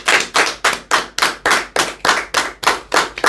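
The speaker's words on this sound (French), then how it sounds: "Applaudissez le pouvoir alors" A congregation claps in unison at a church service, a strong, regular rhythm of about three claps per second, loud and close.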